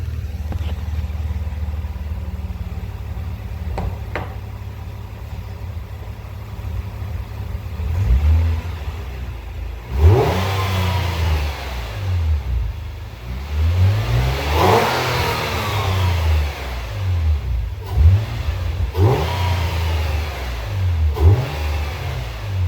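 A 2005 Nissan Maxima engine fitted with an HPS short ram intake idles, then revs up repeatedly in strong, rising and falling bursts, loud and close, with no talking.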